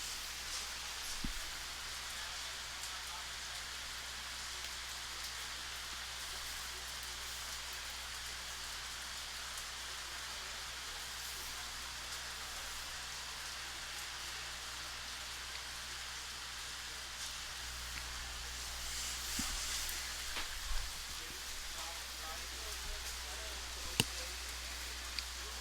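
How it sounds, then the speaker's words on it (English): Steady rain falls on an outdoor junior varsity lacrosse field, a soft even hiss of drops that runs continuously with a few faint knocks and distant sounds. "We have a steady rain falling here now."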